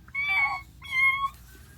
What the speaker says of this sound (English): What does the cat say?